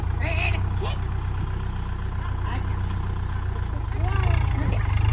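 A tractor engine idles nearby with a steady low rumbling throb throughout, while people talk and call out over it outdoors.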